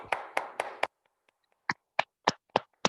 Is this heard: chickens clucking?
no